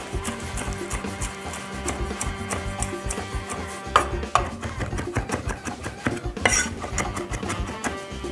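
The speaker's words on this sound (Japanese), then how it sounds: "これはみじん切りに細かく刻んでいきましょう" A knife finely mincing food on a cutting board while preparing garlic steak rice, producing quick, steady rhythmic chopping taps close by, with no talking.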